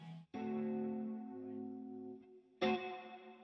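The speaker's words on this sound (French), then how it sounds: "Le son qui est flangé." Sustained electric guitar chords with a sweeping, swirling flanger modulation and a reverb wash, cutting out briefly before a fresh strum rings out.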